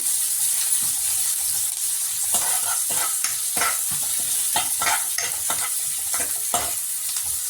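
Curry leaves and green chillies sautéed with onions in a pan while tomato thokku is being made, giving a steady sizzle broken by repeated scraping stir strokes, close and alone.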